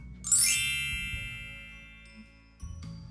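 A bright notification bell ding rings out once, shimmering and slowly decaying, followed by a softer second strike near the end, with no talk.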